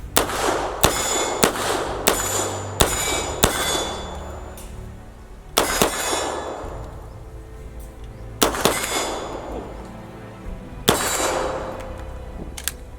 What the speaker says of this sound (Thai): ยิงแล้วประทับใจครับ ยิงสนุกนะฮะ